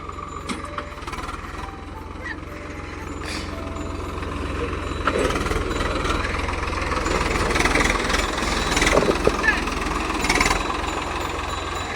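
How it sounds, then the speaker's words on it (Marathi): A farm tractor engine runs steadily on a village field, a continuous low idling rumble with clanking bursts, heard close. "चाललं ट्रॅक्टर आता नांगर जोडायला."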